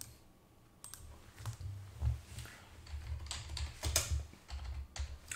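Typing on a computer keyboard while entering a folder name in MX Linux with the Xfce desktop; close, irregular runs of soft key clicks with brief pauses, no talking.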